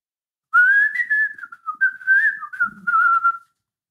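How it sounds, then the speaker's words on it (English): A person whistles a continuous, wavering melody up close, the tune running unbroken for about three seconds with brief dips between phrases and a short low murmur near the end. "I can whistle."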